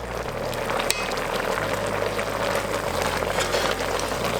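A pot of Korean spicy braised chicken simmering with a bubbling, steady boil, close up, and a faint hum running underneath.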